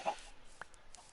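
Soft, faint clucks from Minecraft chickens, a couple of brief calls in a quiet game scene with no talking.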